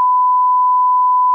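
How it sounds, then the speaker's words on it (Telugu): A censor bleep covers swear words in a clip about Jr NTR fans. It is a single steady, pure electronic tone that holds evenly for over a second, loud and alone, then cuts off sharply. "ఈ మాటలకు ఎన్ని బీప్ సౌండ్లు వేసినామంటేనే అర్థం కావాలి"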